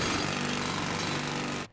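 Loud, continuous rattling hammering of power tools at a construction site, a dense jackhammer-like din that holds steady close up and then cuts off abruptly.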